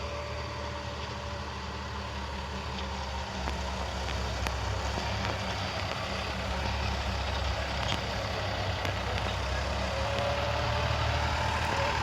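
A Sonalika 47 RX 2WD tractor engine runs steadily at a distance, a low continuous rumble with faint clicks and no talking.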